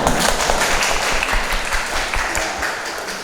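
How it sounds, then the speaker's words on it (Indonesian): An audience in a classroom claps together, dense, steady applause close by for a few seconds. "Tepuk tangan untuk semuanya."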